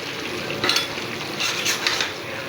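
A curry being sautéed and stirred in a pan: a continuous close sizzle overlaid with repeated scraping strokes of a spoon against the pan, arriving in a few brief bursts.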